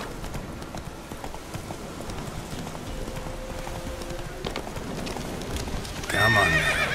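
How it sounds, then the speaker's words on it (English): Roach the horse in The Witcher 3 video game clip-clops at a steady trot throughout, hooves mid-distance, with a louder neigh breaking out near the end. "Whoa there, Roach."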